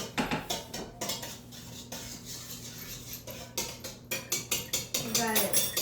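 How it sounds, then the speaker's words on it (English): Egg whisked in a bowl with a utensil, quick clinking strokes in uneven bursts with brief pauses, close and fairly loud, with people talking in the background. "You gotta whisk the egg."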